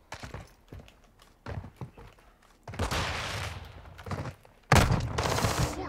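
Fennec 45 SMG gunfire in Modern Warfare 2 comes in rapid bursts separated by quieter gaps, with a loud final burst near the end.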